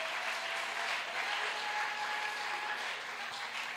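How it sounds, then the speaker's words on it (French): A congregation claps together in a church service, steady sustained applause filling the room with no voices rising above it. "Est-ce que tu peux acclamer?"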